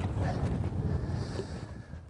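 Wind blowing across a windy point on a clear-water lake where bass fishing is underway, a steady low rumbling buffet on the microphone with a faint airy hiss above, continuous and close for the whole stretch.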